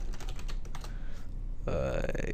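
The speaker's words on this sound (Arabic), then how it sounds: "الباسورد نكتبه" Rapid clicking keystrokes on a computer keyboard as a password is typed, close and quick for a second or so, followed by a louder tonal sound with faint talk in the background.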